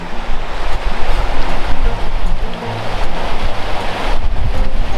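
Waterfall on the River Meavy on Dartmoor, a steady broadband rush of falling water that holds close and loud for the whole stretch, with wind buffeting the microphone and no voices.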